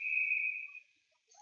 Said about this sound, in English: And we hear a whistle.